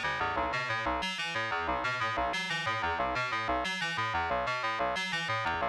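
A WMD Phase Displacement Oscillator working as an LFO modulates a VCO's pitch, producing a repeating synth pattern of pitched pulses that rises and falls in a steady loop, loud and alone.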